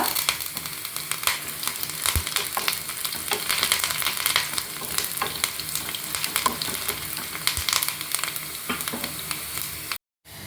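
Curry leaves frying in hot oil, a loud, continuous crackling sizzle with faint stirring scrapes, alone without voices, cutting off abruptly near the end.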